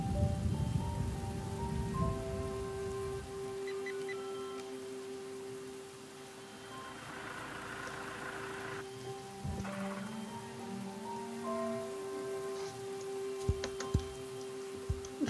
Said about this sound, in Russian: под дождем мокнет.